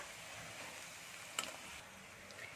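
Raw banana slices frying in hot oil while being stirred, a steady soft sizzle with a brief louder clink or scrape in the middle and no voices.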